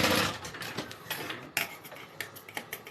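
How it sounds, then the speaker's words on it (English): A sewing machine runs down the side of a backpack seam in a quiet, close run of rapid stitching with small ticking clicks. "So I'm just going to sew down one side and then sew down the other."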